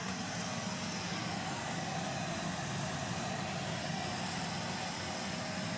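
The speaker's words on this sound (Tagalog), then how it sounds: "Ito, itong vacuum natin nadali sa basurahan. Gumagana siya guys." A salvaged vacuum cleaner of the Ita brand, pulled from the trash, runs steadily with a loud, even whirring roar that holds constant throughout without pause.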